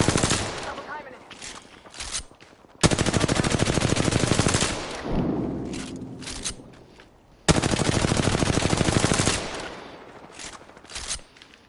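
Automatic gunfire from a weapon fitted with a blue barrel stabilizer in Apex Legends, loud sustained bursts separated by quieter gaps with scattered single shots.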